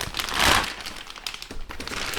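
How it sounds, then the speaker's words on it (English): A plastic bag crinkles as Sennheiser HD400 headphones are unpacked, with a loud crackling rustle up front followed by several smaller crinkles and handling sounds, close and alone without speech. "Unfortunately, they come in a plastic bag."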